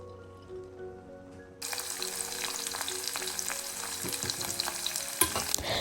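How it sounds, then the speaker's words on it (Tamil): Raisins and long-sliced carrot frying in ghee in a pan, a steady close sizzle that jumps in loudness as the food goes in, with occasional stirring clinks and scrapes. "நான் நெய்யில் ட்ரை கிரேப்ஸும் இன்னும் ஒரு 1/2 கேரட்டும் இப்படி நீட்டமாக வெட்டி சேர்த்து கொண்டிருக்கிறேன்"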